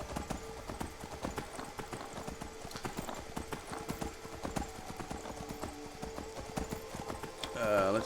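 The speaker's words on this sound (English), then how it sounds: "so let's get on the horse" Steady clip-clop of horse hooves while riding in the video game Skyrim, a rhythmic gait repeating under a continuous game soundscape, with a brief whinny-like swell near the end.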